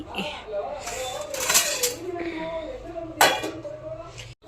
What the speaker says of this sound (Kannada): ಪಾತ್ರೆ ಇದೆ ತೊಡಿಬೇಕು